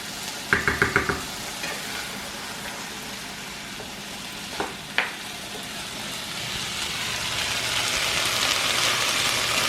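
Potatoes and onions fry in a pan for a Spanish breakfast, with a steady sizzle that swells toward the end, a few sharp knocks near the start and a couple of clinks midway.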